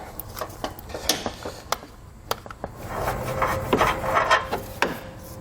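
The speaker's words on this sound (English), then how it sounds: "We did have to get a couple quick turns on it with our crescent wrench just in order to loosen it up a little bit" A crescent wrench works a nut loose during a base plate installation on a vehicle, giving scattered sharp metallic clicks and dry scraping rasps in a short, uneven series, close and fairly quiet.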